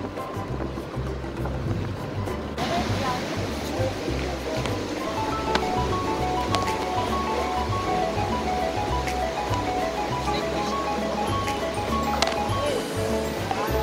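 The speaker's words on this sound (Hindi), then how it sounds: "ये देखिए सामने झरना" A waterfall in the Garhwal hills of Uttarakhand, a steady broadband roar of rushing water that fills the whole clip at close range, with faint background noise.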